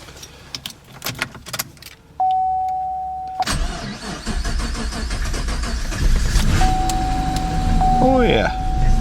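A diesel Squarebody Suburban is started with the key: jangling keys and a brief chime tone, then the engine cranks and fires right off, settling into a loud, rough, rattling idle close by as a warning chime sounds again.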